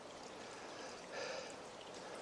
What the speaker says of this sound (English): Creek's flowing right there just a little bit.